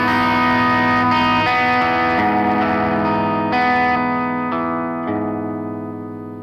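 A distorted electric guitar strums a chord, repeated several times with effects and reverb, then left to ring out and fade.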